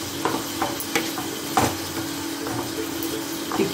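Spinach curry stirred in a pan, a few distinct scraping strokes of the spoon over a constant bubbling, watery background, close by and with no voices.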